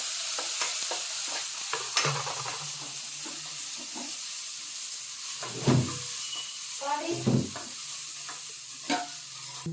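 Ginger garlic paste sizzles and fries in a pan for paneer butter masala, with steady frying hiss and repeated spoon stirring scrapes, close and moderately loud, with brief voice sounds in places.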